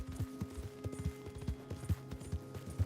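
Horse hooves clip-clopping steadily in Red Dead Redemption 2, a quick rhythmic trot of dull thuds over a low droning game soundtrack, no talk.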